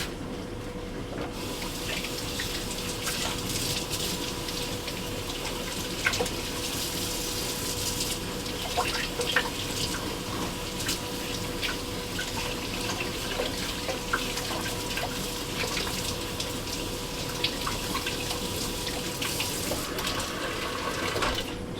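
Rabbit meat is washed under a running kitchen tap, a steady close splashing gush with small clinks and handling sounds throughout.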